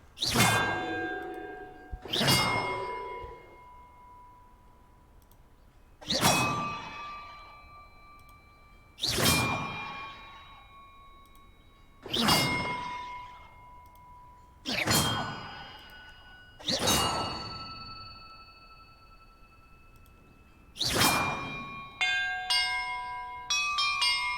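Bells struck one after another in Hogwarts Legacy, about eight separate metallic clangs each ringing out and decaying, ending with a quick flurry of chiming tones.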